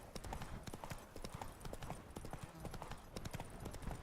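Hooves of the horse Roach in The Witcher 3 clip-clop in a steady galloping rhythm, faint and continuous over game ambience.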